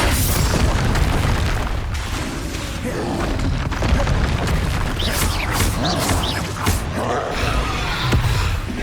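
Spell explosions in the video game Hogwarts Legacy on PS5, heard as dense, continuous booms and blasts layered with crackling bursts and combat noise, loud throughout with no gaps.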